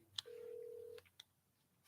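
A new mobile phone rings with a brief electronic tone: a short chirp, then a steady held beep lasting under a second, and a couple of faint blips after it, on an otherwise quiet line.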